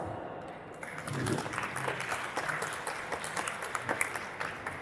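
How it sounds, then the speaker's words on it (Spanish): Audience applause welcoming a speaker at a public security and AI talk, a fairly soft spread of clapping that starts after a brief pause and carries on steadily with a few louder claps. "démosle un fuerte aplauso"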